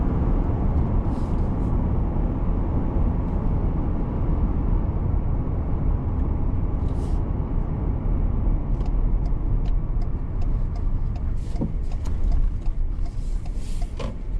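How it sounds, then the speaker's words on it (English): Steady cabin drone of a 2020 Ford Ranger XLT Sport 4x4 pickup on the road, with low engine hum and tire and road roar holding constant throughout, a few faint ticks on top, no talking. "That's driving in the 2020 Ford Ranger."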